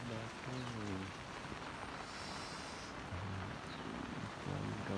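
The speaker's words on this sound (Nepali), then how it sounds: "पानी आयो" Rain falls outdoors during grass cutting, a soft, steady patter and hiss that runs throughout while people talk intermittently.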